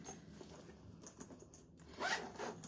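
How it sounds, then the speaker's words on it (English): A sling pack bag zipper is pulled closed in one quick, close, raspy zip near the end, after quieter handling of the bag. No speech. "let me zip these two back up."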